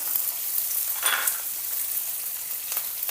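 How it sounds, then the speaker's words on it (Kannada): Finely chopped onion and garlic hitting hot oil with green and dried chillies for tomato rasam, a close, steady sizzle with a brief stirring swish. "ಸಣ್ಣದಾಗಿ ಕಟ್ ಮಾಡಿಟ್ಕೊಂಡಿರೋಂಥ ಈರುಳ್ಳಿ ಉಳ್ಳಾಗಡ್ಡಿ ಸೇರಿಸ್ಕೊಳತ್ತೀನಿ"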